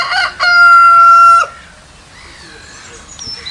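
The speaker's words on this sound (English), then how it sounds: "It's a chicken." A chicken crows loudly and close at a zoo, one long sustained cry that cuts off abruptly, followed by quieter background sounds and faint voices.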